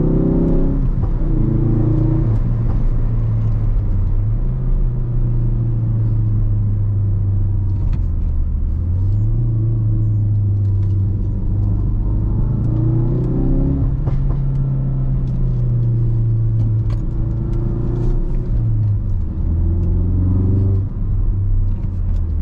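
Ford Focus RS in track mode on backroads, engine droning and rising and falling through steady acceleration, loud and continuous from inside the car with no talk.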